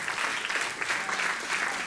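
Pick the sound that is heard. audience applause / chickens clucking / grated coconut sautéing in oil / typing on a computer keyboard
audience applause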